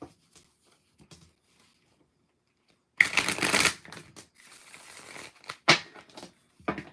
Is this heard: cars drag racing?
no